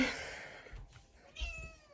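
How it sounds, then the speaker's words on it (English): A pet cat on the floor meows close by in the morning, a couple of short calls in a quiet room with faint rustling between them. "Miss Kitty's already up. She's on the floor right here"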